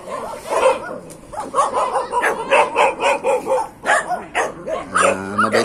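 Several dogs at a fishing ground in Binakayan bark excitedly in quick repeated bursts, close and loud, with some yips and whimpers mixed in.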